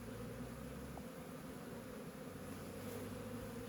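Honeybees drone steadily around a hive entrance as bees walk toward the flight board, a continuous low buzzing hum held at an even level throughout.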